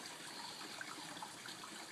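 Water poured from a container into another vessel, a steady, continuous gush and trickle that runs close by without a break for the whole short stretch, with no one talking.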